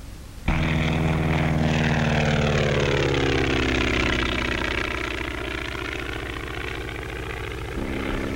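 A 1930s skywriting airplane's propeller engine drones steadily and loudly during aerobatic Immelmann turns, starting abruptly, then holding a continuous roar whose pitch slowly sweeps downward and levels off, with no voices.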